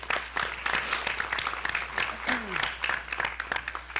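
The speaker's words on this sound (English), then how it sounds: "that is something that we can absolutely give a nice round of applause to" An audience at a school board meeting applauds honored student teams, a steady wash of clapping from a roomful of people, with a voice briefly heard over it.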